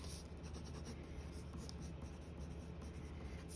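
Faint scratching of a pencil on paper, soft continuous strokes with light rhythmic texture, quiet and close, with no talking.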